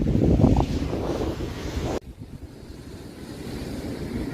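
Wind gusting across a microphone at Lemur Beach, a loud rough buffet that drops off abruptly, followed by a steadier low rush with faint surf beneath.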